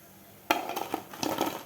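Fried soya chunks lifted out of oil onto a plate: a sudden scrape and clatter of a metal utensil against a pan, then a short run of clinks and soft knocks, close by and without talk.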